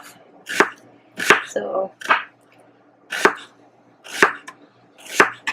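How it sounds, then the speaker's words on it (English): A sharp kitchen knife chops through an onion on a board in six crisp, evenly spaced strikes, close and clear, with one brief scraping rustle between cuts and a single short spoken word. "Just make sure your knife is sharp enough to go through the onion quick"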